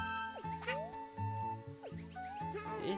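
A pet cat meows repeatedly close to the microphone, several rising and falling calls in quick succession over quiet electronic game music.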